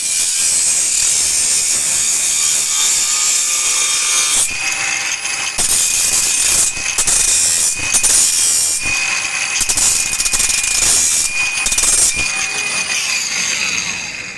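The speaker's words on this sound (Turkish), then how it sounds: "lityum bataryalı bir spiral taşlama makinesi siparişi verdim" Cordless lithium battery angle grinder cutting, a loud steady high whine that runs the whole time, its pitch shifting slightly as the disc bites in and eases off, close and with no talk.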